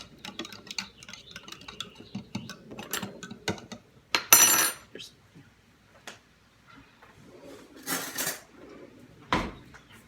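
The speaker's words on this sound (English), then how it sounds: "So I'm getting another spoon because I already dipped this one and licked it." In a kitchen, metal spoons clink and rattle against each other and a drawer while someone picks out a teaspoon, several scattered sharp clatters with quiet gaps in between, close by.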